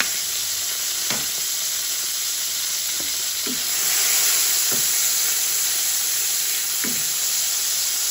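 Margarine sizzles steadily in a hot frying pan for fried rice, a constant bright hiss with a few faint clinks and stirring taps scattered through it.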